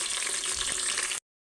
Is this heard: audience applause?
no